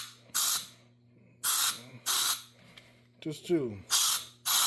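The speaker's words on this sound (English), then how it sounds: "I didn't want to turn on the compressor, so I just got this little compressed air" A small can of compressed air sprays in repeated short bursts to clean a mini bike motor's parts, each blast a loud, steady hiss with quiet gaps between; a voice speaks briefly midway.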